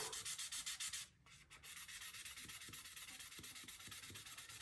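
A wooden pen is hand sanded along the grain with quick, rhythmic back-and-forth rubbing strokes, close and fairly quiet, with one brief pause partway through.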